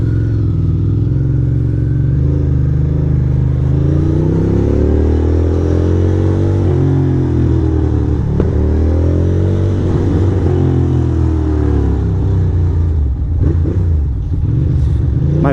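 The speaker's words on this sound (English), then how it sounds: "My bike, those little backfires once in a while." Motorcycle engine running steadily and revving up and down, with a few sharp pops that sound like small backfires toward the end; loud and close throughout, no talking.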